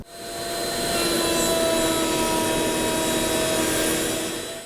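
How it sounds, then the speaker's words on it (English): A biscuit joiner, pushed along a miter fence, cuts slots through white oak dividers for a kitchen island. It gives one steady, close, high motor whine with a cutting rasp, rising quickly, holding for about four seconds, then falling off. "I'm just going to push them through with the miter fence and create a biscuit slot going all the"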